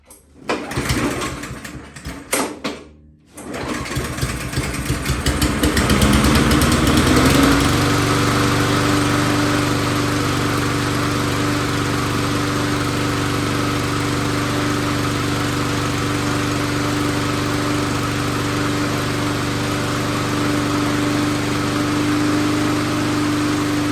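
A 2003 Huskee 21-inch lawn mower with a Powermore engine is pulled over a few times, then catches and settles into a steady, loud idle that runs alone for the rest of the time inside a garage.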